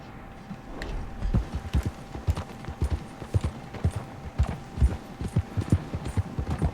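Horse galloping in Red Dead Redemption 2, with hooves striking in a quick, steady rhythm of clip-clop beats that are close and distinct, and no talk over them.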